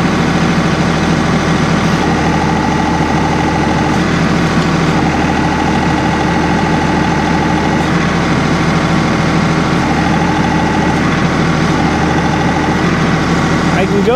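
A compact tractor engine runs close and steady at a raised idle while lifting a firewood processor, a low continuous drone with a faint whine and slight pitch shifts, with someone talking over it.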